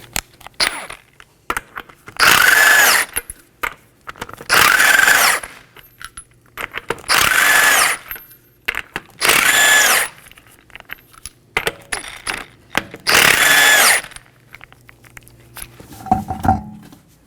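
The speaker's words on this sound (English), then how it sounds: "We'll be using a 21mm socket to remove the 5 lug nuts." Power tool with a 21mm socket removing wheel lug nuts on a 2015-2023 Nissan Maxima 3.5L V6: five loud, separate bursts of rattling impact, each about a second long, with clinks and handling noise between them.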